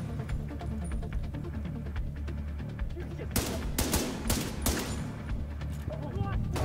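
Gunfire in The Division 2, a rapid burst of loud, sharp shots crackling together in the middle of the stretch over a continuous low game hum, with a few lighter pops before and after.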